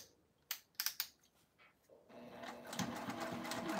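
Sewing machine stitching along the very edge beside a zipper, starting as a few sharp separate clicks and then settling into a steady, continuous whir that builds slightly over the last seconds, close and alone.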